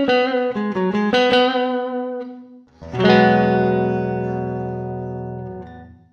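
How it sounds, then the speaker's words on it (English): Clean electric guitar through Logic Pro X's stock reverb plugin at default settings: a quick run of plucked notes, then a strummed chord that rings out and decays slowly with a long, smooth reverb tail, loud and alone. "what you're hearing is the default sound of this reverb"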